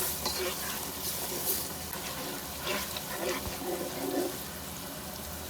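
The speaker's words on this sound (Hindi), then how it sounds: "एक कप पानी डाल देते हैं" Water poured from a cup into spices frying for a kofta curry: a steady broadband sizzle and hiss with bubbling bursts throughout, fairly loud and close, with no talk over it.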